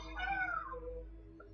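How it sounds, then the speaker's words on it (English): A pet cat meows once, a drawn-out, wavering cry that tails off, quiet and fairly close in an indoor room. "That's my cat"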